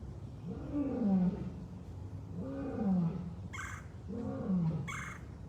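A lion roars at a big cat rescue sanctuary in a series of deep, groaning calls repeated about three times, with sharp, loud bird calls cutting in between.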